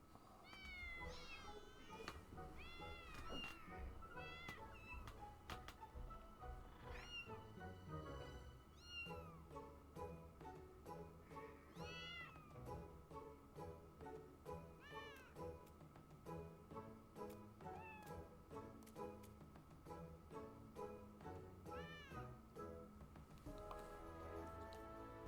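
Kittens meow over and over in an apartment scene of the video game Final Fantasy XIV Dawntrail, many small high-pitched mews overlapping continuously beneath a soft musical score, fairly quiet throughout.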